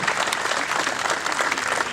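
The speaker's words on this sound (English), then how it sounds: "Let's give Joe Carter another round of applause." Audience applause at a 2012 Matewan Massacre commemoration speech, a steady, even clapping from a moderate-sized crowd lasting the whole moment without any voices over it.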